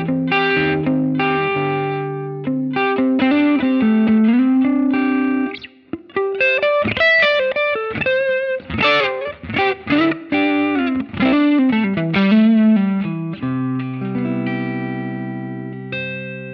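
Electric guitar on the neck pickup through a Line 6 Helix Ventoux amp model with distortion and effects, a loud, close run of sustained notes and quick phrases that carries on alone for many seconds.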